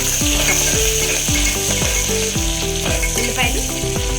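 Cashews and onions fry in a pan under a loud, steady sizzle, overlaid by a rapid run of rhythmic clicking scrapes repeating roughly twice per second, close and dense throughout.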